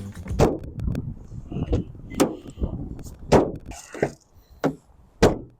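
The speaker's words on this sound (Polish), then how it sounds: "Albo dźwięk zamykanych przednich drzwi." A series of sharp, solid thuds, about six of them spaced irregularly: a Dacia Spring's front doors being shut nearby, with no talking.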